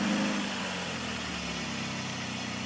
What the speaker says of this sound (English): So if we can start up the engine,